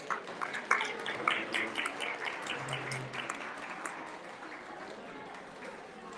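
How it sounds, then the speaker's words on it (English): Scattered audience applause greets a performer at a Margazhi Vizha stage event, a few louder claps early on before it fades into a faint, diffuse patter, with a brief low hum partway through. "please give a big round of applause"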